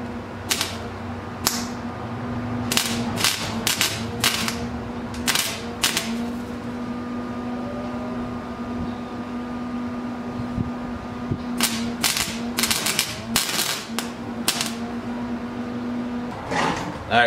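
Sheet metal for a hood being welded up close, with short crackling bursts in irregular clusters separated by pauses, over a steady low electrical hum.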